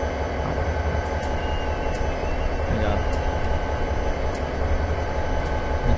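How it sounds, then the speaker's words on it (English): Diesel locomotives, four of them, pull a slow train through Cajon Pass in Train Simulator, giving a steady low engine rumble and rail noise throughout, with someone talking briefly over it. "It took 4 diesels to move this slow train."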